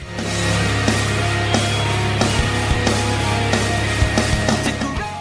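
A sustained low electronic drone of guitar pedal feedback with steady hum tones, broken by several sharp clicks and pops, loud and continuous throughout.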